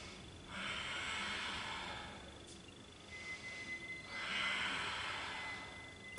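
Slow, deep yoga breaths drawn in and pushed out through the nose, two long hissing exhalations in an even rhythm, close and soft with no talking.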